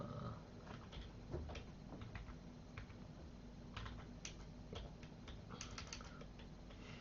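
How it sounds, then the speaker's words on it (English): Faint, steady typing on a computer keyboard, with light irregular key clicks in scattered clusters over a low background hum. "I don't know what you're typing there."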